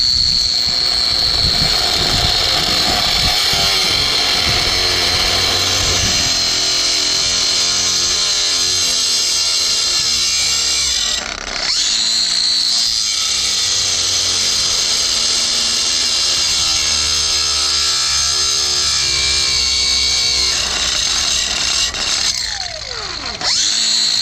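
Battery-powered angle grinder with a thick cut-off wheel cutting through the axle of a 6x12 cargo trailer, a loud, sustained high whine with a grinding edge, easing briefly a couple of times before biting again.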